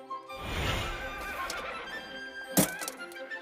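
A horse neighs once in an anime scene, a loud whinny rising and fading, followed by a sharp thump and rustle near the end.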